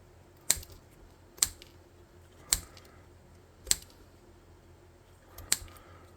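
Scissors snip through cardstock that is being cut into brick shapes, making five sharp, crisp clicks spaced about a second apart over a quiet background.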